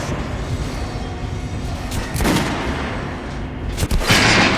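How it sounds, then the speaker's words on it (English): Gunfire in Metro: Last Light Redux as armored dummies are shot. Sharp booming reports land amid a dense loud background, with two or three distinct shots near the end and no speech. "now shooting armored dummies"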